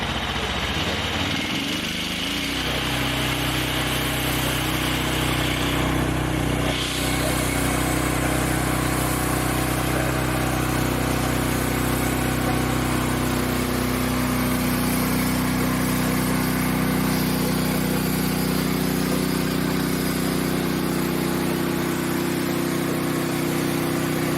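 A steady motor drones throughout, low and continuous, the engine of a Norwood farm sawmill cutting fresh wood, with no talk over it.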